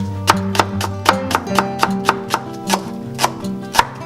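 A knife thinly slices a vegetable on a cutting board, giving a close, even run of about a dozen crisp taps, each with a slight ringing tone.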